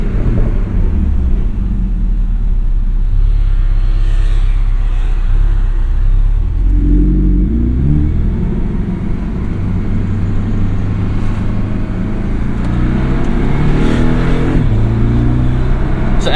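A 2017 Porsche 718 Boxster S with PDK gearbox and MTM sport exhaust, tuned by MTM, accelerates hard from close range, its engine rumbling and rising in pitch through loud sustained revving with gear changes.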